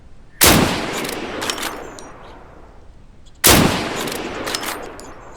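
Deadside gunfire: two sharp, loud gunshots about three seconds apart, each with a long echoing tail over quiet background.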